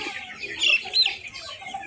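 Chickens clucking inside a poultry shed with a rice-husk litter floor, several overlapping clucks and squawks at moderate volume with no voices.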